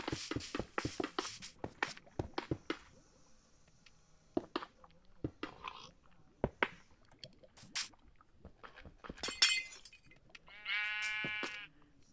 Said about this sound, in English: go bounce on top of it with the sheep